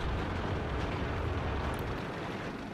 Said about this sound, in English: Artillery shell.